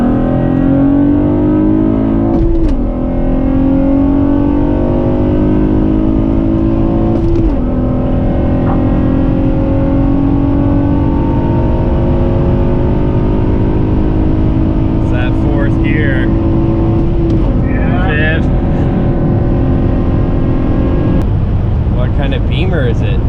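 Cars accelerate hard from a standing start, engines revving up through the gears in rising surges with audible shifts, loud and continuous, with some voices underneath.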